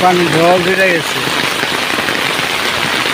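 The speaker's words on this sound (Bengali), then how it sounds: "এখন তো সকালবেলা, দেখেন প্রচুর বৃষ্টি নেমে গেছে। এই যে পানির ঢল ছুটে গেছে" Heavy morning rain in a village, with water rushing; the rain makes a loud, steady hiss throughout, and a voice is heard briefly at the start.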